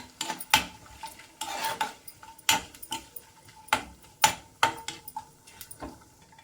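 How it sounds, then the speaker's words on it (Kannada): Cashews are lightly fried in a pan for a homemade sweet, with a spoon knocking and scraping against the metal in irregular sharp clicks over a faint sizzle, close and without voices. "ಸ್ವಲ್ಪ ಕಲರ್ ಚೇಂಜ್ ಆಗೋದಂತ ಫ್ರೈ ಮಾಡ್ಕೊಳ್ಳೋಣ ಜಾಸ್ತಿ ಅಲ್ಲ ಲೈಟಾಗಿ"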